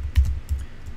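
Keys clack on a computer keyboard as a command is typed, a quick run of about five close, crisp taps within a second.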